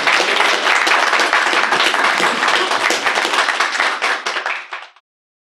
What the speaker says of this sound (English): All right, let's give him the clap.